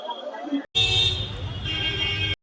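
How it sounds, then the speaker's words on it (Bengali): Stalled traffic jam on a street near Varanasi, with a sustained car horn blaring loudly over engine rumble, followed by overlapping honks and steady road noise close by. "ট্রাফিক জ্যাম দেখো বন্ধুরা, প্রচুর ট্রাফিক জ্যাম।"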